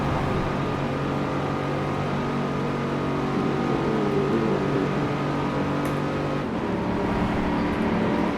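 A Chevrolet Corvette ZR1 engine in the Forza racing game, holding 7th gear at high speed: a sustained, steady drone with no talking.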